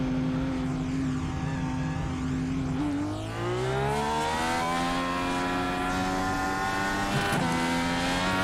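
IndyCar in the iRacing sim at Watkins Glen, engine note droning steadily then sweeping upward as the rear tires break loose in wheelspin, loud and continuous with no talk.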